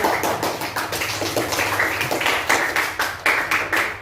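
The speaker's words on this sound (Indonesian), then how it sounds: "beri tepuk tangan kepada aku" A group claps in a rapid, continuous patter, with the sound holding steady throughout before slightly uneven bursts near the end.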